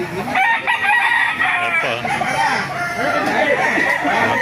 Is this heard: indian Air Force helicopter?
no